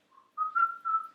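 A person whistles a short tune alone: a brief soft opening note, then two longer, louder sustained whistled phrases, close and clear with no talking.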